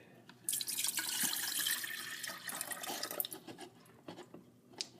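Water is poured into a plastic electric kettle as a steady, close splashing stream that runs for a few seconds, then tapers into a few drips and trickles.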